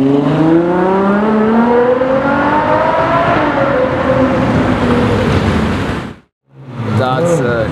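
A Ferrari 812 GTS supercar in Rosso Fuoco revs close by, its engine pitch sweeping steadily upward in a long loud climb before cutting off briefly and barking back to life.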